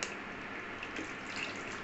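Garlic juice poured into a container for a home remedy, a steady soft trickle of liquid that is quiet and heard alone.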